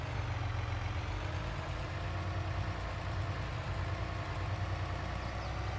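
A baler tractor's engine in Farming Simulator idles in a steady, low, throbbing rumble, constant and fairly close with no other sounds.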